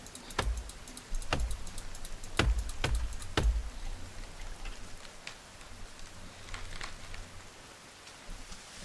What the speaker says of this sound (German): jetzt wo es natürlich übelst laut wird durch den scheiß Regen